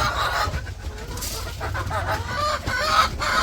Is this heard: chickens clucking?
yes